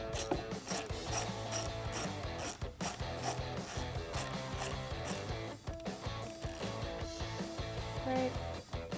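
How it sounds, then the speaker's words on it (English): A ratchet with a 10mm socket drives bolts into an intake bracket on a Jeep Wrangler JL 2.0L, a rapid, steady run of close metallic clicks that carries on with only brief pauses. "I'm using a 10mm socket."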